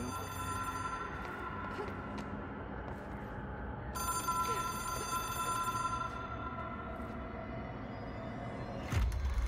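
Telephone ringing in the video game Control, a steady electronic ring with bright tones that repeats without a break over a low rumbling ambience, louder from midway, ending in a sudden thump.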